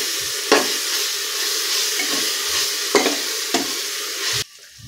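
Ground paste and softened tomato sauté in a pan for paneer biryani, giving a loud steady sizzle punctuated by several sharp stirring scrapes, ending abruptly into near silence.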